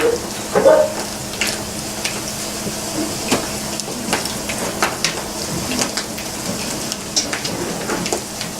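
Vegan cocoa delight patties frying in a pan, a steady close sizzle and crackle with scattered pops and light scraping, running continuously without talk.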